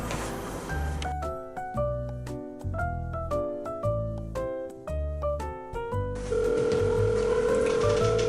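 A telephone rings with a repeating electronic melody of bright tones in an even rhythm, then a sustained steady tone, loud and close, with no voices.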